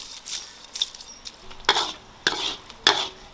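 Hot pot base with garlic, ginger and dried chilies stir-fries in a wok, a sizzling bed broken by several sharp, loud spatula scrapes at irregular intervals, with no talking.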